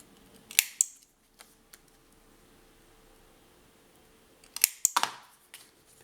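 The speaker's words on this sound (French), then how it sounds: "Je vais arrondir mes coins." A corner-rounding cutter on scrapbooking album paper makes two sharp clusters of crisp snipping clicks, one early and one near the end, separated by near silence in a quiet room.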